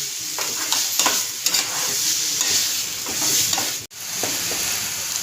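Ground masala paste frying for raw mango rice, a continuous hissing sizzle broken by spatula stirs and scrapes, close and steady, with one brief drop near the end.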